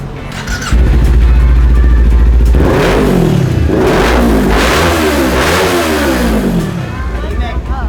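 A Kawasaki Ninja 400 with a quiet aftermarket muffler idles, then revs repeatedly in rising and falling bursts, loud and close, while people talk over it.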